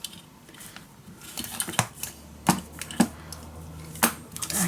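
Scissors cutting through patterned scrapbook paper for a mini album, with a few sharp snips and rustles spaced irregularly, close and fairly quiet.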